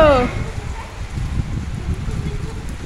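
Rain falls on a rooftop where children play, a steady broadband patter heard near and fairly loud throughout, with a brief voice at the very start.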